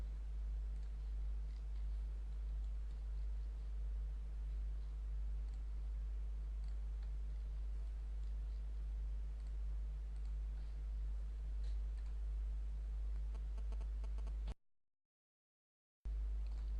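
A computer mouse clicks sharply and faintly now and then during CAD modelling work, brief ticks over a steady low electrical hum, with a short dropout near the end.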